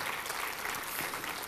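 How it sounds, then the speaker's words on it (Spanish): Dense, steady applause from a congregation clapping together during a worship service, continuous and fairly loud throughout. "Dale un aplauso al Señor."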